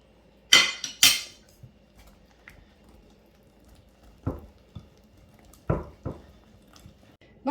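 A spoon works thick crème fraîche around a bowl, giving a few sharp clinks against the bowl and softer wet thuds spaced out between stretches of near silence.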